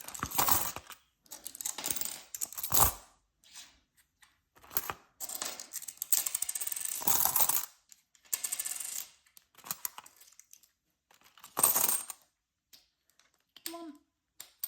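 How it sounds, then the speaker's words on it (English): Coins clink and jingle in short bursts as they are dropped back into a wallet, close and crisp with quiet gaps between handfuls and a little soft talk. "let's just put the coins back in the wallet"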